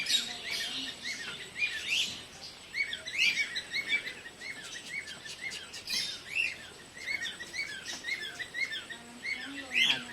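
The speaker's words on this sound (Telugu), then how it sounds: "చిలకలు" Parrots chirp in a small zoo enclosure, with repeated bright, high calls and tweets scattered throughout, fairly close and lively, over a soft background hum.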